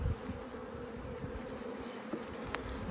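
Dense, steady buzzing of many honey bees around a single-box mountain hive in dry, hot weather, a close, even drone with brief louder passes of individual bees.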